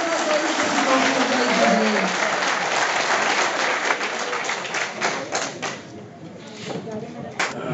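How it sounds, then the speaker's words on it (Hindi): A hall audience at a felicitation ceremony gives loud, sustained applause for the director, clapping densely before thinning out near the end, with a few knocks and thumps mixed in. "हमारी आदिल अजीज डायरेक्टर साहिबा मैडम जोरदार तालियों से उनको"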